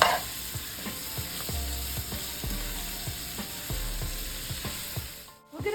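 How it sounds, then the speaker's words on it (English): An onion mixture sizzles and fries steadily in a pan, close and fairly loud, broken by repeated scrape-and-stir clatters of a utensil, with a brief dip near the end. "We're gonna let this mixture cook for a little while, or until the onions sweat"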